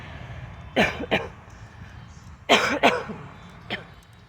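Several coughs from a person with a genetic form of COPD, in two bursts, a pair near the start and a pair midway, then one more single cough, fairly close against a quiet background.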